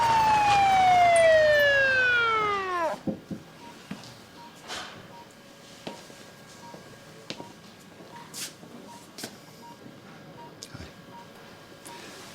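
A wailing siren sweeps downward and cuts off after a few seconds, followed by scattered clicks and knocks in a quiet room.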